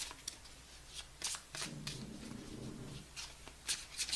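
Cards being riffled and shuffled in several quick bursts, crisp papery flutters close by, with short pauses between shuffles and no talking.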